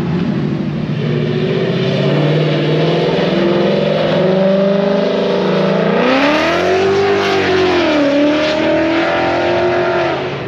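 A stock Nissan R35 GT-R accelerates hard, its engine note loud and close, rising steadily through the revs, then dipping briefly and climbing again without any talk over it.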